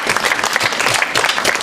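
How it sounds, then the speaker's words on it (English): Audience at a Christmas science lecture breaks into applause for a volunteer, a loud, close, dense burst of clapping with no talking. "may I have a round of applause for Dylan?"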